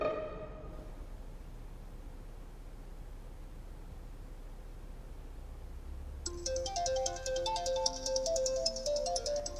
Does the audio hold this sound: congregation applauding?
no